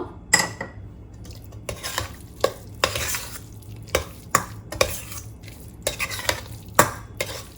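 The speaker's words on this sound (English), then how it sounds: "Mix it." A spoon stirs pongal in a pot, scraping and clinking against the metal in a steady run of close, sharp strokes with no talk.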